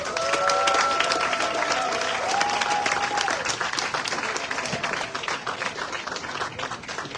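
Audience at a reggae festival launch event bursts into sustained applause after a minister's speech, dense clapping loud at first and gradually thinning, with a voice briefly heard over it.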